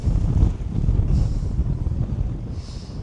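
Wind blowing steadily across a pond during fly fishing on a windy evening, a constant low rumbling buffet against the microphone with gusty swells and no talk.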